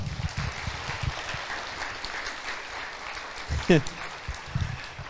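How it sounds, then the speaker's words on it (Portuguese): A church congregation claps for the Lord during a worship service, scattered applause running under ongoing voices with a brief louder burst near the end. "Aplauda mais uma vez ao Senhor."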